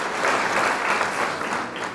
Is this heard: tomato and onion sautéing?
no